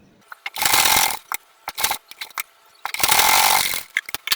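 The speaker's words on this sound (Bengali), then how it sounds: "এখানে একটু চাপ সেলাই দিয়ে নিলাম" A sewing machine stitches a salwar, running in two long bursts with short, sharp stitching spurts and clicks between them, close and fairly loud with no talk.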